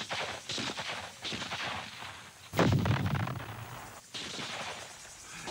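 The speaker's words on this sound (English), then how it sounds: "NLF snipers opened up from hidden firing positions" Rifle fire in Vietnam War combat, sharp shots crackling in rapid bursts at mid-distance, one heavier blast in the middle, with dense, continuous gunfire throughout.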